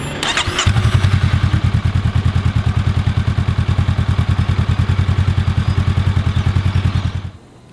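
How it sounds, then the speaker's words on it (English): A Honda CMX500 Rebel motorcycle engine catches with a short start burst, then idles steadily up close with an even, throbbing pulse for several seconds before cutting off abruptly near the end. "a little sound clip here as well with my high quality mic, so you can get a bit of a feel for what the old Rebel sounds like"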